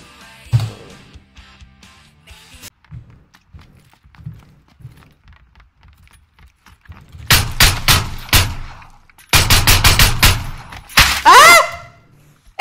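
Pistol gunfire in a video game: after a quiet stretch of faint clicks and footsteps come several loud, close bursts of rapid shots in short clusters, ending in a ringing tail.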